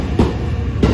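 A JR 315 series train pulling out of Nagoya Station, a loud low rumble with two sharp clacks of wheels over rail joints, heard close up from aboard.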